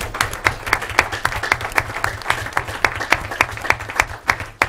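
Applause at a city council meeting, a small group clapping in distinct, fairly regular claps, close and moderately loud, lasting several seconds without talk.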